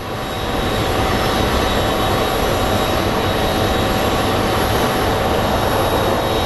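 Continuous broadband roar of an American Airlines jet arriving from San Diego at Phoenix Sky Harbor airport, loud and steady throughout with no voices.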